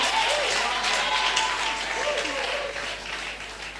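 A church congregation applauding and cheering for Jesus, a loud sustained wash of clapping and crowd voices that fades slightly toward the end, with speech mixed in.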